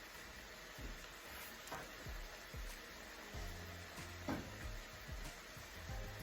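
Flour being stirred into hot sausage drippings in a pan for biscuit gravy, a steady close sizzle with soft scraping strokes and occasional clinks, no talking.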